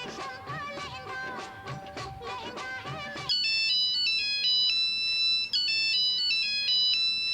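A mobile phone rings with a bright, repeating electronic melody, loud and steady, cutting in after a few seconds of busier tonal sound during a live comedy stage play.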